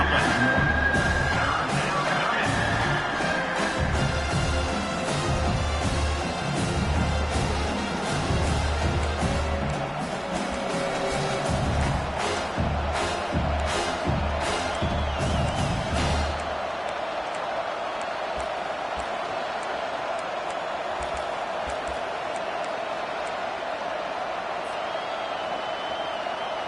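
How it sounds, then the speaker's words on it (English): A stadium crowd at an Oregon versus South Carolina football game roars loudly and steadily on third down for about sixteen seconds, then drops to a quieter, sustained murmur. "Decibels rising as the crowd gets behind this defense on third down."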